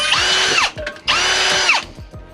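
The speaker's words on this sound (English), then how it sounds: "we'll drill the 2 holes here and the rest of them that we already kind of pre-marked" A power drill bores holes in the metal frame of a 2021 Can-Am X3, two close, loud bursts of high whining with the pitch bending down as each hole breaks through, separated by a short pause.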